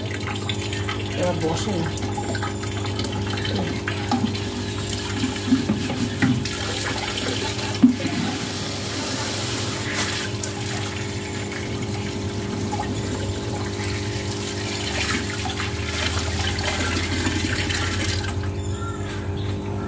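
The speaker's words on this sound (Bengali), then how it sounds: "দেখো জলগুলি ভরছি, জলগুলি ভরে নিই" Water from a motor pump fills containers at a home courtyard in a steady, continuous rush. Someone speaks briefly over the flow.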